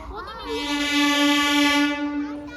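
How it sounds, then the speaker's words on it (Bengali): A train pulling into a station sounds a long, loud steady horn blast that swells and then fades, over a low rumble of rolling wheels. "এই যে এবার আমাদের ট্রেন ঢুকছে"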